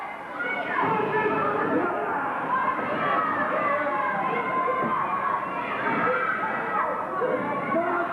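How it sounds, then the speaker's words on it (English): A crowd at a 1992 NEWF wrestling match cheering steadily, a dense, continuous roar of mixed voices and shouts in an arena, heard at a distance under a commentator's talk. "As the fans cheer, the Anvil is coming up"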